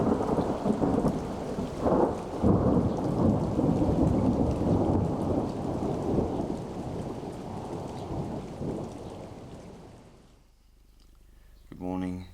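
Heavy rain pours steadily through a night thunderstorm, with deep rolling thunder rumbling underneath, then the downpour fades to quiet near the end as a faint voice is briefly heard.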